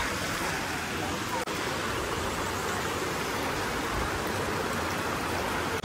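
A river flows steadily beside a riverside picnic spot, a constant broadband rush of water close by, with one brief click and faint voices mixed in.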